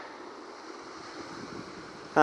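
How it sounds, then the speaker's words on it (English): A gentle swell rolls in at Kennack Sands, Cornwall, giving a steady, soft wash of surf with light wind across the microphone, then a brief louder knock right at the end. "there's a bit of a swell rolling in"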